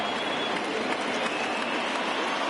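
A stadium crowd of over 39,000 cheers and applauds in a PS4 baseball game between Seattle and the 90s Yankees, a dense, continuous roar with no speech over it.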